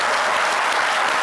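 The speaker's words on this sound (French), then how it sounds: "avec les applaudissements de mon magnifique" Studio audience at a French TV game show applauding steadily and loudly, a dense unbroken wash of clapping filling the whole moment with no voices on top.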